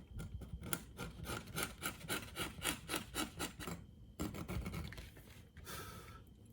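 A leather surface is roughened by hand ahead of gluing for a work folio, making quick, rhythmic rasping scrapes in close repeated strokes, then a short pause and a few more scrubbing passes.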